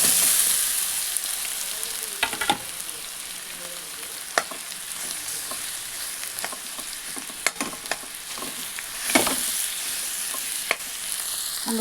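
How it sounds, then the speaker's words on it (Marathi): Potatoes frying in roasted kharda chutney: a steady close sizzle with scattered spatula scrapes and clicks, and a louder burst of frying near the middle, with no voices. "आता देऊया बटाटा टाकून."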